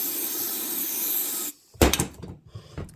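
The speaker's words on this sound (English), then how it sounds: "Okay, I'm going to spray and dump this out." Brake cleaner hisses from an aerosol can in a steady, fairly loud spray into a saw for about a second and a half, then stops abruptly, followed by a few clunks and rattles of handling.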